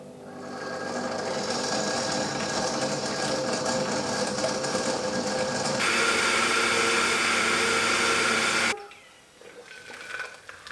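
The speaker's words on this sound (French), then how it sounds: "Et vous laissez la machine faire toute seule." A Koro No Cow-Boy plant-milk machine runs with a loud, steady motor whir that shifts pitch partway through, then cuts off abruptly, leaving quiet handling sounds.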